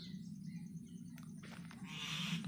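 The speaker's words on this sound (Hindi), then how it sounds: "इधर बैठी है चिड़िया चिल्ला रहे हैं," Birds calling noisily near a house yard, thin chirps and a brighter burst of calls toward the end over a steady low hum.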